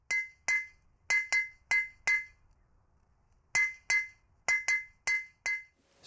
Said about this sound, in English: You might hear that musical sound echoing from a nearby hammer and anvil.